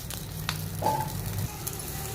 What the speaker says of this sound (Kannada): ಎಣ್ಣೆ ಬಾಣಲಿ ಒಳಗೇ ಹುರ್ಕೋತಾ ಇದ್ದೀನಿ